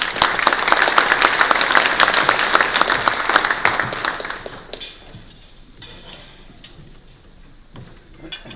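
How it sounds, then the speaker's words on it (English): Audience at a housing policy conference applauding as a panel walks onto the stage, dense steady clapping for about four seconds that thins out and fades to scattered claps. "give them a round of applause"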